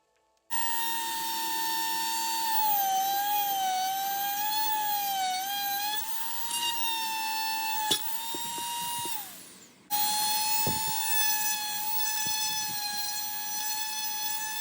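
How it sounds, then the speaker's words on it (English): A Dremel rotary tool bores a hole in the bottom of a craft house, its high, steady whine wavering under load, stopping briefly, then spinning back up, close and alone. "I'm going to make a hole in the bottom of this house so I can add some lights, and I'm using my Dremel tool"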